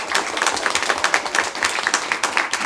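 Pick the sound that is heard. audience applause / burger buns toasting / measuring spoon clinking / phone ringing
audience applause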